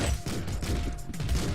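Rapid gunfire crackles in the top-down video game Streets of Rogue, with several quick shots in a close burst over a low rumble and no voices.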